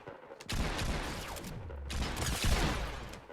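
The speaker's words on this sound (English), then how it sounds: "somebody shooting at me?" Gunfire in an online shooter video game, a dense run of shots and bursts starting about half a second in and continuing loudly to the end, with no talk.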